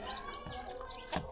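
Short, high-pitched peeping comes from a week-old pigeon chick, several quick chirps in a row, close and fairly clear.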